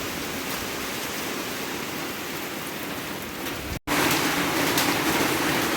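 Steady heavy rain and gusting wind during Typhoon Kristine, a dense continuous roar that holds at the same loudness, cuts out for an instant, then comes back slightly louder.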